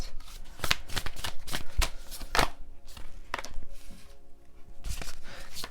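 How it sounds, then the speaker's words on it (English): Oracle cards being shuffled by hand, a close run of rapid riffling and slapping bursts that continues steadily with no talking. "Let's pull some oracle cards."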